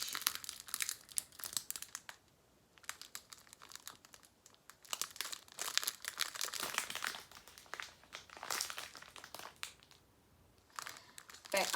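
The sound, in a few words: crinkling plastic packaging of diamond painting kits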